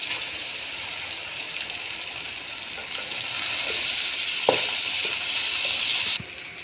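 Dal mash frying in a pan with chopped green chillies, a steady loud sizzle rising midway, with a few scraping stir strokes and a sharp clink near the end.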